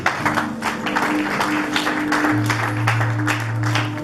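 A church congregation applauds in a long, even patter of clapping, with a sustained low tone from an instrument or sound system underneath.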